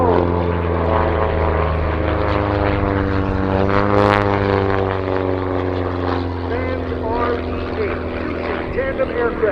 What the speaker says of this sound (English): flying the experimental RV-8 series aircraft that they custom built themselves.